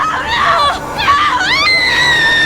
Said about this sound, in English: It's really weird hearing myself scream.